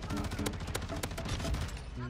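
Rapid automatic gunfire from the Tempus Razorback in the video game Modern Warfare 2 rattles in dense, sharp bursts. The shots sound close and continuous over the short stretch, with game sounds underneath.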